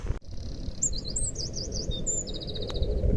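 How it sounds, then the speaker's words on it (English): Birdsong rings out on a mountain scramble up Jack's Rake in the Lake District: a series of high, clear chirps and warbling trills, fairly close and distinct over a low, steady wind rumble. "Birds are singing."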